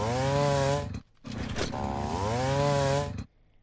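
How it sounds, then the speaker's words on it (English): A Minecraft ORES+ mod chainsaw cutting down a whole tree, with two loud, sustained buzzing engine bursts of rising and falling pitch, each cut off sharply, close and alone. "we have the chainsaw, which we can use to cut a whole tree at once"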